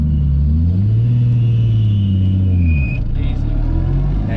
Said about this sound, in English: pull it into first gear, and take off